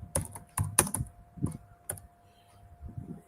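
Keys clatter on a computer keyboard in short irregular bursts of close, crisp taps, pausing briefly between flurries, with a faint steady hum underneath.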